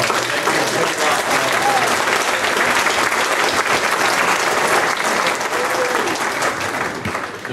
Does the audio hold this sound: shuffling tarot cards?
no